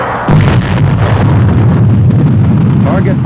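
A missile launches at an Army test site, a sudden loud blast followed by a sustained roaring rush of rocket exhaust.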